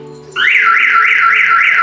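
A VIPER security system alarm on a Hummer bursts on after a brief low hum, a loud, close, rapidly warbling siren that rises and falls in a steady repeating cycle.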